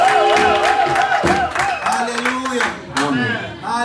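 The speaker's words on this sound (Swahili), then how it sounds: "Makofi mingi na vigelegele kwa neno hili." A Swahili church congregation bursts into loud, close applause mixed with high, warbling ululation and crowd voices, the clapping dense and the trilling rising and falling throughout.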